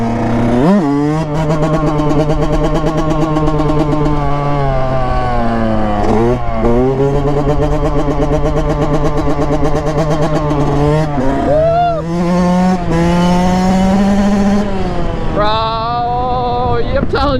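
Yamaha YZ 125 two-stroke dirt bike being ridden hard, its engine close and loud with a high, buzzing note that rises and falls through gear changes and bursts of revving.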